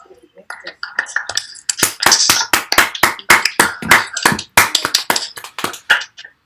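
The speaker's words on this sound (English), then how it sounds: "So we also should try the virtual applause" Scattered handclaps from a few people joining virtual applause at the end of an online workshop talk, irregular and close, building from sparse claps into a quicker uneven patter with a faint voice early on.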